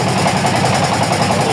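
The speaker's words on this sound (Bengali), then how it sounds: "এখন ট্রলারে আছি, চারিদিকে শুধু পানি থই।" A trawler's engine running on floodwater, a loud, close, steady throbbing drone with no gaps.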